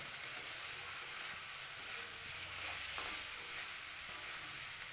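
Partly boiled potatoes and carrots stirred in an uncovered pan for a Bengali winter vegetable fry, a steady soft sizzle and low scraping continuing throughout with no talk.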